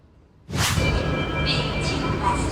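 After a quiet moment, a Singapore MRT metro train rushes into the station with a sudden loud whoosh, then a sustained rumble and squeal as it passes close by.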